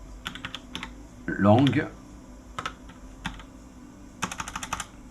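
Typing on a computer keyboard, with short bursts of close key clicks at the start and end and a brief spoken word in French in between.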